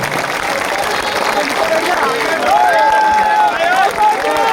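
Crowd applause and clapping at a political rally in India, a dense steady wash of many hands close by, with cheering and chatter in the mix and a whistle-like tone rising over it near the end.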